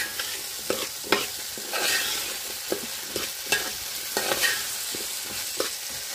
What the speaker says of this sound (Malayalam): എന്നിട്ട് നല്ലതായിട്ടൊന്ന് വീണ്ടും ഇളക്കാം.